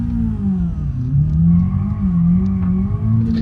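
Simulated BMW E36 318is four-cylinder with a sportier intake and modified exhaust, driven in BeamNG.drive, holds a loud steady drone that rises and falls in pitch as the revs swing, with no talk over it.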